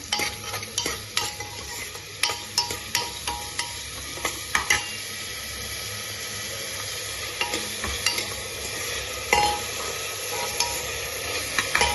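Onions with a pinch of salt sauté in a pan for a beef curry as a spatula scrapes and knocks in a steady rhythm, each stroke clear and close above a continuous low sizzle.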